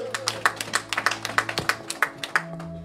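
A church congregation claps in praise to the Lord, a brisk run of roughly a dozen sharp handclaps over a faint sustained organ or keyboard tone.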